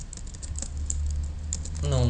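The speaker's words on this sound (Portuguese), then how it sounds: "Então vou começar aqui digitando primeiro o valor das minhas variáveis" Rapid clicking of keys on a computer keyboard, typed steadily and close up while entering variable values in a Java program, with a voice beginning to speak near the end.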